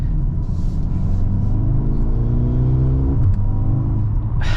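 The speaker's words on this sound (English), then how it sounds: "this SUV sounds good, and the engine is nice and responsive" A 2023 Mercedes GLA 35 AMG SUV engine revs up while driving, a loud, steady rumble climbing in pitch through the gear, heard from inside the cabin with a quick shift near the end.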